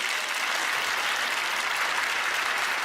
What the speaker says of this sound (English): Applause for dealing.